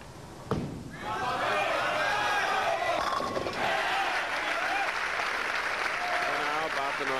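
Big standing-room-only crowd at a North Brunswick bowling match bursts into loud, sustained cheering and applause after a sharp thud, with voices shouting above the roar throughout.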